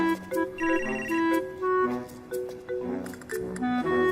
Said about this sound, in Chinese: 雷小桃，再不接我电话，我就报警了。